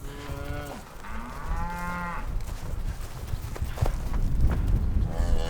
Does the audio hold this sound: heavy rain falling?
no